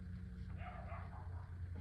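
Two small dogs barking outdoors, a few faint, distant yaps heard through a wall over a low steady indoor hum.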